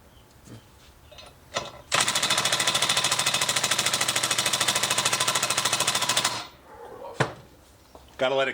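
An impact wrench set to level 3 hammers at a bolt on an S14 rear knuckle, one loud rapid burst of about four seconds, with voices and clunks before and after.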